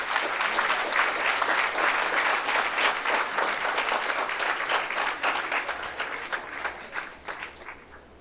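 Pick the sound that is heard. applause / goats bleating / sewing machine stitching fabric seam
applause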